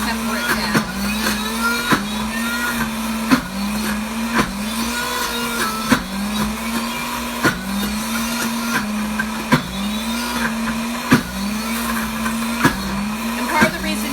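A blender churns thick hummus, a loud continuous motor drone that rises and falls in a regular cycle, with sharp knocks every second or so as the blades catch the dense paste.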